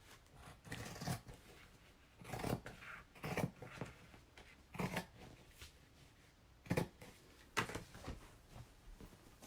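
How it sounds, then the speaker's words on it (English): Scissors snip through fabric in a straight line while a cloth face mask is being made, giving a series of quiet, close crisp cuts in uneven bursts separated by short pauses. "And then I'm just going to cut a straight line."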